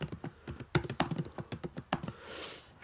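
Typing on a computer keyboard during a grammar lesson, a quick irregular run of close, distinct key taps with brief pauses between bursts.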